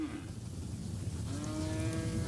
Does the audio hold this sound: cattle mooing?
yes